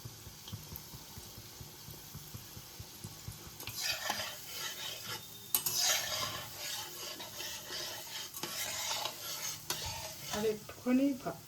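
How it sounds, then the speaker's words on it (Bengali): Pantua sweets frying in a pan, a steady close sizzle of bubbling oil that rises after a quieter start and continues with light stirring and utensil clinks. "আর একটুখানি ভাজলেই এগুলো হয়ে যাবে।"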